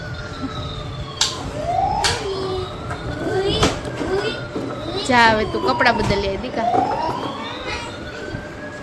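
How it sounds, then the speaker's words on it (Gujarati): A wailing fire engine siren sweeps up and down over a busy street, fairly loud, while a person speaks over it. "લાઈ બંબો આવ્યો."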